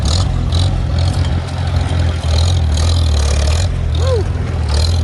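A Farmall tractor pulling in second gear on its first pass, a loud, steady low engine drone that holds throughout with faint rattling above it.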